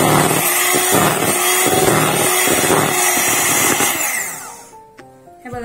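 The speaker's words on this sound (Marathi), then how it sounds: "आपल्याला छान आता छानपैकी फेटून घ्यायचं आहे। जोपर्यंत क्रीम छान फुलत नाही तोपर्यंत" An electric mixer whips cream for an eggless cake with a loud, steady motor whir and rhythmic pulses as the beaters churn. It winds down and stops near the end with a few small knocks.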